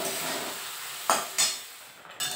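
Fish and masala frying in hot oil in a home kitchen, a steady close sizzle broken by a few sharp utensil scrapes and clinks against the pan.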